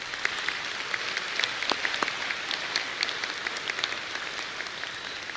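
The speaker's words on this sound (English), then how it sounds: "I ask you to give those groups a quick round of applause" Graduate commencement audience applauding in a large hall, a steady broad wash of many hands clapping with scattered sharper claps throughout, fairly distant and even in level, no talking over it.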